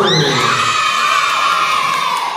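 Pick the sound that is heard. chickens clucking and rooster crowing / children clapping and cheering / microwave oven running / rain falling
children clapping and cheering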